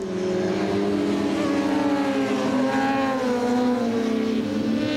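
Endurance racing motorcycles scream around Spa-Francorchamps during the 2008 8 Hours of Spa as night falls, a loud, steady, high-revving engine whine with layered harmonics, sustained and close throughout.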